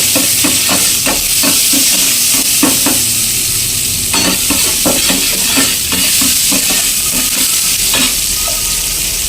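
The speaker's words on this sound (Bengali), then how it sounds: "কুচনো টমেটোটা অ্যাড করলাম এর মধ্যে।" Chopped, lightly salted tomatoes frying in a pan for a spicy handi chicken masala sizzle loudly and close, with a rhythmic run of utensil scrapes and knocks from constant stirring.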